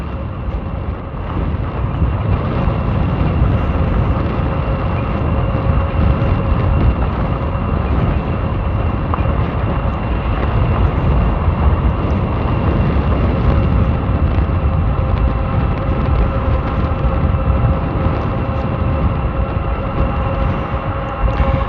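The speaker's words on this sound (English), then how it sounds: "I'm going into the wind" Strong, steady wind buffeting the microphone while riding a SOLEBIKE SR22 retro fat-tire e-bike into a headwind at about 30 mph, a loud continuous roar that persists for the whole stretch with no talking.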